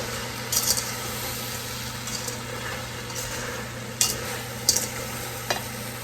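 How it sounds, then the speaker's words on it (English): Blueberries stirred in a pan as sugar melts for a blueberry cobbler, giving a low steady simmer with a few soft scraping strokes and light clicks of the spoon against the pan, no talking. "Take and give these a stir. Let that sugar start melting."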